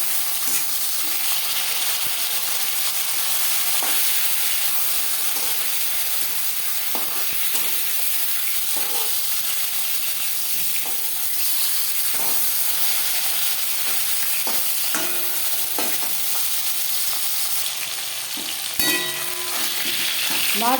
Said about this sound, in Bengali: মাছ একটা সাইড ভাজা হয়ে গেলে